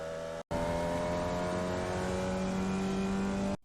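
A Formula Vee race car in the iRacing simulator holds full throttle, a loud steady engine drone with a tonal whine and no voices. It cuts out briefly near the start, then runs on.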